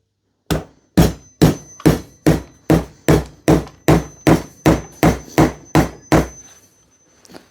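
About a dozen evenly spaced hammer strikes drive a multi tool blade into a piece of wood through a glove, each a sharp, loud, close knock in a steady rhythm, ending with a faint final tap.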